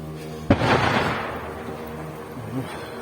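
A single heavy artillery explosion booms with a sharp onset, then rumbles and fades over a couple of seconds, sounding somewhat distant.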